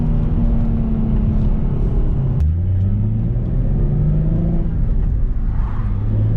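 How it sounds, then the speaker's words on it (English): Stock Nissan 350Z NISMO engine and exhaust heard from inside while driving, a loud steady drone that drops with a gear shift midway and then climbs again as it pulls, with no talking. "I should be able to hear the exhaust way better now."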